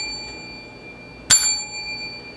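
A single bright bell ding sounds as a notification effect, one sharp strike about midway that rings on with a sustained high tone before fading, over faint background hiss and no speech.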